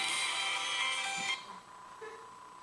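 A mobile phone ringtone sounds from inside a pocket during a Sunday morning church sermon, ringing steadily and fairly loud for over a second before cutting off, leaving a faint quiet room.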